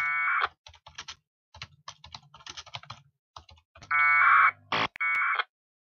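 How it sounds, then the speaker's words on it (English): Clicky keystrokes typed in short irregular runs on a computer keyboard at a packet radio station, close and clear, broken by loud electronic buzzing tones and beeps from the terminal. "type some stuff there."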